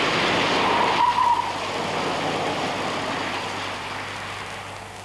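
Car with ASR traction control under full throttle trying to spin, a loud engine roar with a brief tyre squeal early, then a steadier fading drive noise, no talking.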